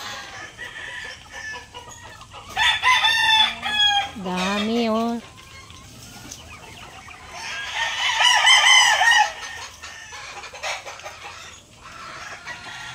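Chickens cluck and a rooster crows in bursts, fairly close, with a brief voice speaking between the calls; native Filipino (Tagalog) chickens.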